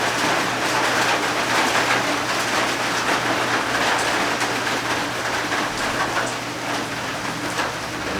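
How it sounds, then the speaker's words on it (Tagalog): Heavy rain pours steadily, a dense hiss of drops drumming on a surface, loud and unbroken with a low hum underneath. "Lakas ng ulan dito, Amigo Borbor, sa inyo."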